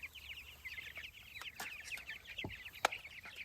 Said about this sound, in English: These are Cornish cross birds.